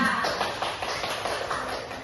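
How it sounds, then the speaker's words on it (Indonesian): A classroom of students gives a student a brief round of clapping, a quick patter of light claps close by, mixed with a bit of shuffling and voices. "Tepuk tangan buat Yola."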